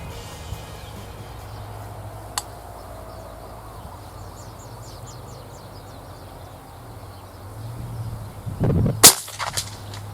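A Sam Yang 909 .457 big-bore air rifle fires a JSB Predator XXL pellet at an outdoor target, giving a sharp single report near the end, with a fainter click earlier and birds chirping faintly in the background.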